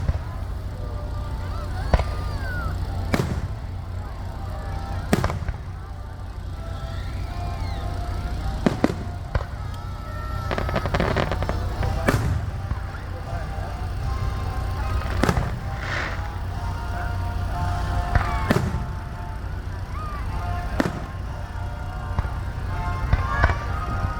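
Fourth of July fireworks in Rockwall, Texas boom and crackle in irregular sharp bursts over a steady outdoor rumble, some blasts near and loud, others more distant, with faint voices in the background.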